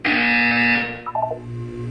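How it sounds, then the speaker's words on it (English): A Portal 2 buzzer: a loud, steady electronic tone held for under a second, then fading into a brief wavering trill and low hum. "You will hear a buzzer."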